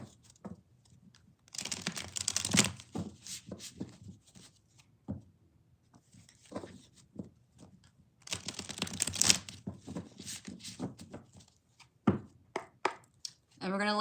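Tarot cards shuffled by hand in bursts of crisp riffling and flicking, with two dense flurries separated by lighter taps and slides, close and fairly quiet.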